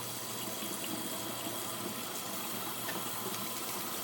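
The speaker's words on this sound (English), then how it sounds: "I'm letting the water get nice and warm." Tap water runs steadily into a sink, a constant soft rushing splash with no breaks throughout.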